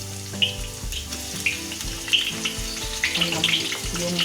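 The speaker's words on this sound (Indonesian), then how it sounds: "Kita goreng bawang merah dan bawang putih" Shallots and garlic fry in heated oil on a stove, giving a continuous close sizzle with scattered crackling pops and no talking.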